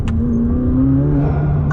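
Intake roar from the roof-mounted scoop on a McLaren 600LT supercar, a loud steady breathy drone from the engine with a slowly rising tone, heard close and alone without talk.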